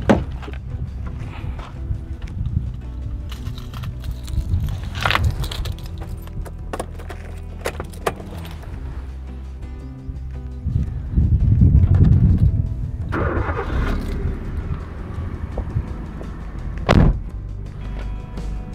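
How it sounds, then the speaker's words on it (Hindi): Hyundai i10 Sportz petrol hatchback engine cranking and settling into a steady idle, heard from inside the cabin, with low rumble, a louder surge midway and a few sharp clunks like doors or switches. "तो अब मैं आपको इंजन स्टार्ट करके दिखाता हूँ अंदर से कि कैसा साउंड करता है।"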